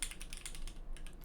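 Rapid typing on a computer keyboard at a game developer's desk, a close series of light, quick key clicks in an uneven rhythm, with a brief pause near the end before typing resumes.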